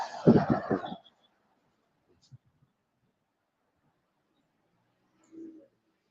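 Pigeons coo outdoors: after a short burst of talk and a long quiet stretch, one soft, low coo sounds near the end.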